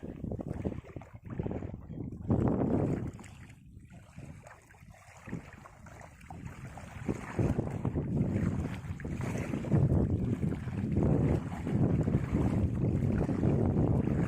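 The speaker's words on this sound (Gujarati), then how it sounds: "આ ફરતો દરિયો છે।" Sea water washes and surges under heavy wind buffeting the microphone, a loud, continuous roar that swells and eases, as waves rise and fall at an old fort.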